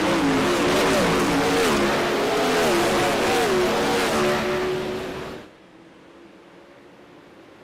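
Dirt oval race cars accelerate hard under green, engines rising and wavering in a loud, sustained roar with shifting pitch, then cutting off abruptly as the pack moves away, leaving a faint low hum; a commentator talks over the noise.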